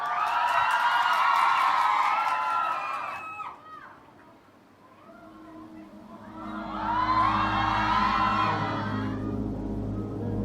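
A concert audience at Rolling Hall in Seoul erupts in shrill cheering and screaming, dips briefly, then swells into a second loud wave as a low musical drone starts underneath.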